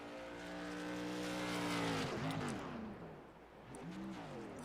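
A modified race car slides its back end through a turn on a dirt track. The engine roars loud and close, its pitch climbing, dipping, then rising again.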